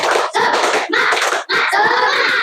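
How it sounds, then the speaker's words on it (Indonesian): Classroom of children clapping a rhythmic cheer chant, loud bursts of claps and shouting voices in three phrases separated by brief pauses, close and energetic. "Untuk lebih semangatnya, mari kita tepuk semangat."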